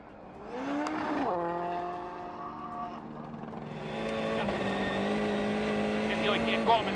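A rally car driven by Sébastien Loeb brakes before a jump on a rally stage, its engine note dropping and then rising into a loud, sustained, close revving roar with some tire noise; no talk.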